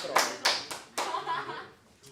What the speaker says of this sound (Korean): 박수 치지 마. 시끄러워.